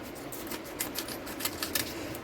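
Heavy rain tipping down with overflowing gutters outside a workshop, a steady broadband wash of hiss with scattered louder splashes and patters throughout, no voices.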